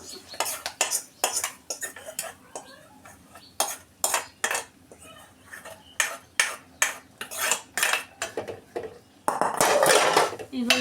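Amla dal with turmeric and water is stirred in a pot, a spoon scraping and clinking against the metal in quick repeated strokes, close and fairly loud, with a denser burst of scraping at the end.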